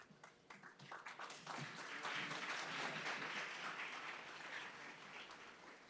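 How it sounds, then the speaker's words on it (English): Audience applause fills a white coat ceremony hall, dense steady clapping from a large crowd building after a few scattered early claps and continuing loudly throughout. "I don't know if you're clapping for me or because you know I'm the end"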